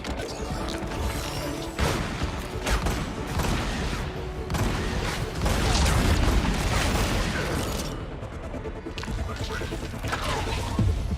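A deployed turret firing in a video game shown at the BlizzCon opening ceremony, with dense, continuous rattling gunfire, booms and crashing impacts throughout, loud and busy with no pauses.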